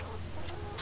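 A chicken on a farm near a calf clucks close by in a short burst over steady low background noise.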